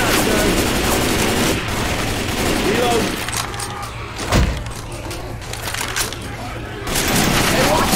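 Gunfire in the video game Left 4 Dead 2 comes as loud dense bursts at the start and end, with a single sharp crack in between and voices underneath.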